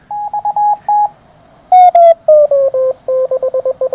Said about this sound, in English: You can even hear his carrier with no oscillation.